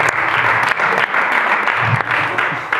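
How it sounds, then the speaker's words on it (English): Audience applause fills a comedy roast at Grand Valley, a dense, steady clatter of many hands clapping close and loud throughout, with a few brief dips and a faint voice underneath. "Again, give it a round of applause, Grand Valley."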